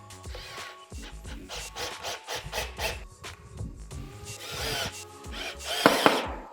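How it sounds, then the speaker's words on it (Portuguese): Screws being driven to fix the strike plate of an MFD 3001 digital door lock onto a door frame, a busy, close run of grinding, scraping tool and hardware noises with a few sharp clicks near the end. "vou parafusar diretamente aqui a minha contratesta"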